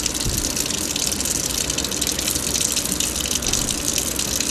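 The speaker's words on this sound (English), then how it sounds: "we're just going to wash it until the water runs clear" Water gushes steadily from a tap to rinse freshly churned homemade butter made in a KitchenAid mixer, a constant loud rush with no talk.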